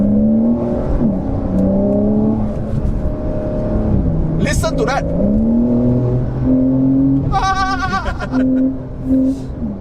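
A 2020 Porsche 911 Carrera S flat-six boxer engine revs and climbs in pitch, a throaty rising whine, with people talking over it.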